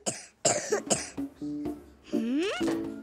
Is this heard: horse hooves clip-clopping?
no